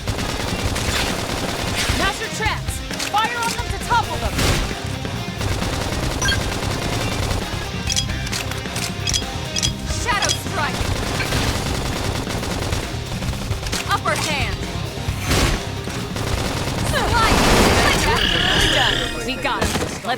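Rapid bursts of gunfire and weapon blasts from combat in the video game Xenoblade Chronicles X ring out continuously under busy music and effects, swelling louder near the end.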